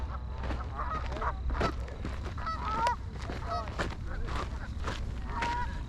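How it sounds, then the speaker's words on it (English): Canada geese honk over and over along a trail during a long-distance race, a loose flock calling in overlapping bursts at moderate distance over a steady low rumble. "Canadian geese."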